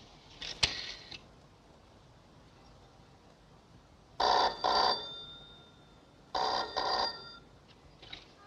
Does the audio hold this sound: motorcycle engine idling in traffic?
no